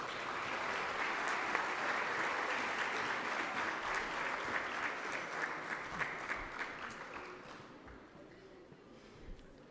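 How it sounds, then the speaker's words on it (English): An audience at an IB celebration ceremony claps in sustained applause that holds steady, then thins into scattered claps as it fades. "Let's give them one more round of applause."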